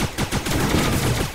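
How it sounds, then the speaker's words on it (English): Rapid, repeated gunshots fired in the video game Starbound, a burst of about half a dozen sharp, punchy bangs in quick succession, loud and close. "then just spam your gunshots like crazy"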